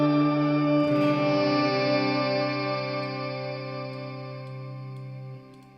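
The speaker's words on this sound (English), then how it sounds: "if I want to go in and add my stereo doubler. Which is kind of nuts. And then turn on the pitch delay." Electric guitar played through a Tone Master Pro with stereo doubler and pitch delay, a sustained shimmering chord swelling with doubled, pitch-shifted layers that slowly decay, then cut off, loud and alone without talk.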